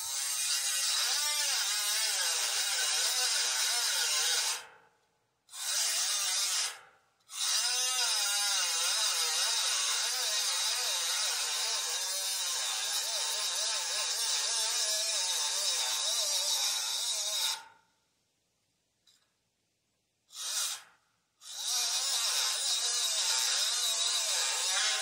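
A small bag grinder cuts off a trailer fender with a loud, steady high-pitched whine, held close, pausing briefly twice and then for a few seconds before resuming.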